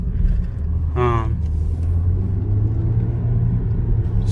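A 2019 Honda Civic Sport with its muffler deleted pulls in first gear, a deep throaty engine rumble rising slowly in pitch, with a short voice speaking near the start.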